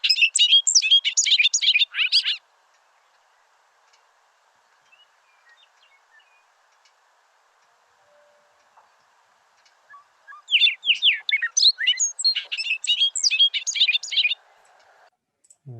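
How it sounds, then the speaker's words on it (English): A recorded bobolink sings two bursts of rapid, bubbling, jangling notes, loud and close, separated by a long quiet gap. "This is a bobolink."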